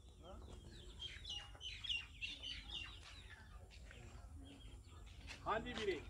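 Desi village chickens and two big roosters cluck and call in a pen, scattered near clucks and chirps, a louder squawk near the end, with people talking softly around them.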